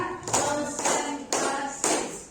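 A group claps in unison four times, each sharp clap evenly spaced about half a second apart, close and loud in a room.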